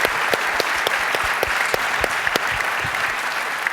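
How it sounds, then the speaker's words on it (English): Conference audience applauding after an opening fireside chat with Mark Hoffman, a steady, dense wash of clapping with a few sharper individual claps standing out, sustained and fairly loud throughout. "please join me in a round of applause for Mark"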